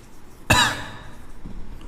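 One sharp, nearby cough from a man giving a physics lesson, followed by quiet room noise with a faint soft thump.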